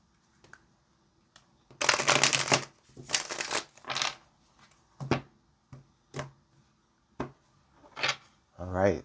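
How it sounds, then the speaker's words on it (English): A deck of tarot cards is shuffled nearby in several loud, papery riffling bursts, followed by a series of softer card taps and shuffles at irregular intervals. "let's get one more shuffle, Cancer."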